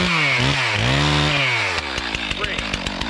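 Chainsaw roaring close and loud while felling a tree, engine pitch sweeping up and down as it revs, then settling into a choppy pulsing rhythm as it cuts.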